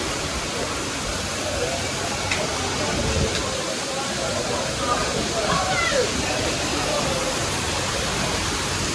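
Water pours like a waterfall at a cafe in Fethiye, Turkey, a constant dense rushing hiss, near and steady throughout.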